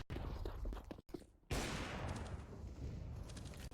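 AK rifle gunfire in a Counter-Strike match. Rapid bursts of shots crackle loudly and close, with a brief gap before a dense volley continues. A game soundscape sits faintly beneath.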